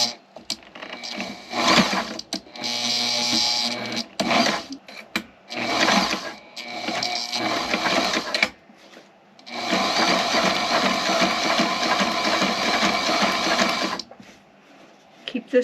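A sewing machine stitches bias binding along the edges of a boat window sunshade in loud, close bursts of rapid mechanical chatter, one long run near the end, with a person talking in the pauses between.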